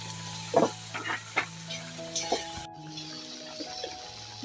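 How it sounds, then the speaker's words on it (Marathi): Spices and garam masala roasting in hot oil for a tempering in a home kitchen while palak paneer is made, a steady close sizzle with faint stirring scrapes and light clinks. "भाजून घ्यायचं आहे आपल्याला मसाले फोडणीमध्ये सर्व"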